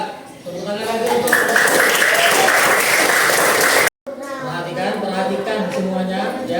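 A crowd claps in sustained applause for several seconds in an Indonesian Islamic primary school classroom, then after a brief cut, clapping continues more softly under voices.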